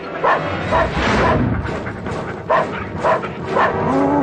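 Several dogs bark repeatedly at close range, sharp barks in uneven bursts over a noisy background with some whimpering.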